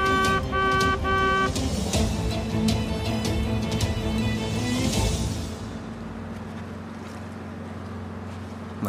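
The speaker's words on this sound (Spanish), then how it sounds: "¡Toque la bocina!" A boat's horn at sea sounds in repeated blasts, tonal and loud over engine and water noise, before the blasts stop and a duller rumble continues.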